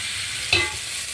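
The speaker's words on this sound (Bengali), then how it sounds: "এইদিকে একটু পাঁপড়ও ভেজে নিচ্ছি" Papad fries in hot oil in a home kitchen, a brief, close, steady sizzle with one sharper crackling burst and no voices.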